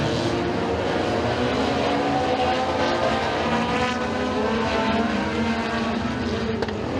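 Race cars at Eriez Speedway roar together in a dense, steady engine drone, loud and continuous throughout the lap with no voices.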